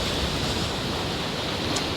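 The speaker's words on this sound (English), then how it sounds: "Just recording the waves as they're crashing over and some of the large rollers" Waves crash over the shore at Talisker Bay, with large rollers making a steady, dense surf roar that fills the air continuously, loud and close with no voices present.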